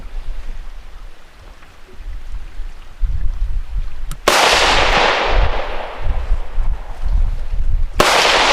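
A Tannerite charge blows up a refrigerator outdoors at a turkey camp, a sudden loud blast with a long rumbling tail after quiet ambience, followed by a second sharp bang near the end.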